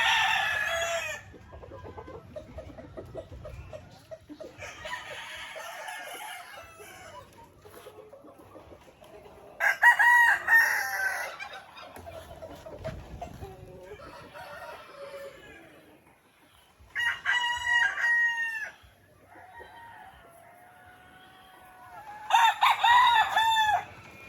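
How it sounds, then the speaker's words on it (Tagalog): An older black Australorp rooster on a breeding farm crows loudly several times, with softer clucking in between, close to the listener. "ito yung black ostalorp natin na rooster"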